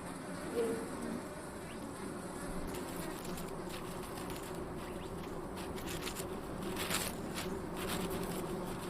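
A steady, dense buzzing of many bees in the Sonoran Desert hums continuously, with a few louder close passes, and faint bird calls in the background.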